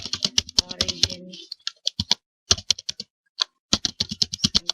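Git commands are typed on a computer keyboard in quick bursts of sharp, close key clicks separated by short pauses, with no voices.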